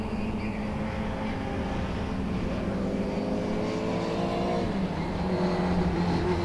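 Mini race cars circle Thruxton circuit, a continuous blend of engines droning and shifting pitch as they run near, no voices.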